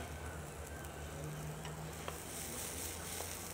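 Trompette mushrooms cooking in a pan with butter at a food festival cooking demo, giving a steady soft sizzle and faint stirring throughout, with no talk over it.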